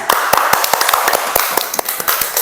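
Classmates clap in a classroom, a loud close burst of sharp, somewhat uneven hand claps with a brisk rhythm, heard on their own without talk.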